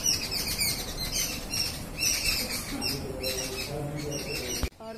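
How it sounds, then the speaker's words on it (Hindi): A dense chorus of many small birds chirps and twitters continuously, bright and busy throughout, with a sharp knock just before the end. "चिड़ियों की ढेर सारी आवाज आ रही है ना।"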